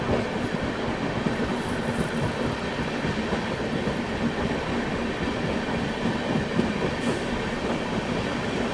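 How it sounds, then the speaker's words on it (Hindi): A passenger train, the Sampark Kranti Express in Uttar Pradesh, overtakes another train, heard as a steady, close, unbroken rumble of wheels and carriage noise with faint clicks throughout. "ये ट्रेन हमसे पहले निकली थी और हम इसको ओवरटेक कर रहे हैं।"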